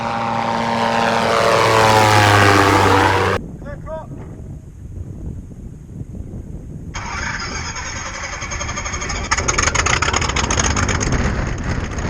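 A light propeller aircraft slowing down on a long runway at Kirkbride in winter, its engine droning loud and close, the noise changing abruptly between sections.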